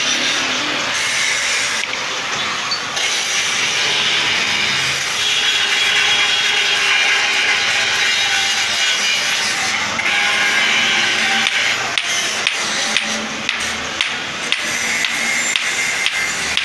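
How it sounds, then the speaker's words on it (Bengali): Grinding and other metalwork clatter fill an iron and steel door and window workshop, a loud, continuous harsh noise marked by intermittent knocks and scrapes. "গ্রাইন্ডিংয়ের কাজ চলতেছে।"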